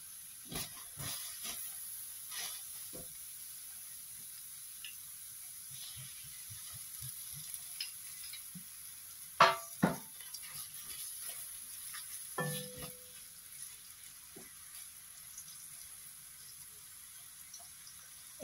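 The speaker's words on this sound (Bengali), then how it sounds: "এখানে আমি পেঁয়াজ দিয়ে দিছি" Onions fry in a pan for chicken bhuna, a faint, steady sizzle and hiss with scattered scraping and stirring clatters, louder clinks around the middle.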